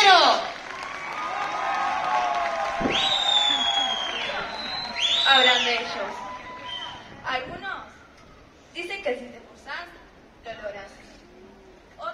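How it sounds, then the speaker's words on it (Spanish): Applause and cheering rise from an audience welcoming a candombe group from Club Juventud Unida, with whoops and shrill whistles over the crowd noise, easing into scattered claps and voices. "Bien fuerte aplauso para recibir desde el Club Juventud Unida, Sociedad de Negros y Lugolos, Sueño Candombe"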